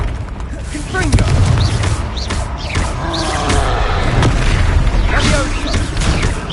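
Confringo fire spell explosions in a Hogwarts Legacy battle, loud repeated booms and blasts with crackling magical whooshes over a rumbling low layer, and a voice speaking in places.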